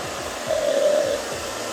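Hair dryer blowing a steady, close airflow while hair is dried with back-and-forth passes, its whoosh swelling slightly in the middle of the short stretch.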